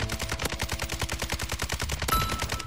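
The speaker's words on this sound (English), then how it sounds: "What the fuck was that shooting?" Automatic gunfire in the video game Warzone 2 rattles in a rapid, evenly spaced burst of loud, close shots that runs without pause.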